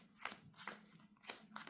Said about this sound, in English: you do a quick pile shuffle